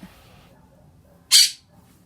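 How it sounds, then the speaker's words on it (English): A single sharp, shrill squawk from a pet bird rings out close by against a quiet background with faint low murmuring. "My bird is squawking because my dog is..."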